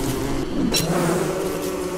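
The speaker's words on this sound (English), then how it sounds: "I'm gonna piss off a lot of bees." Bees buzz steadily in the video game Don't Starve, a continuous close insect drone with a brief brighter burst partway through.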